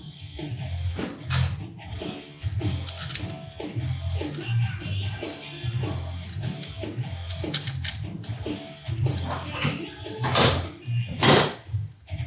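Fasteners being started on a Kawasaki Ninja 400 fork brace, close, continuous clicking, tapping and metallic handling with a few sharper knocks toward the end, no talk.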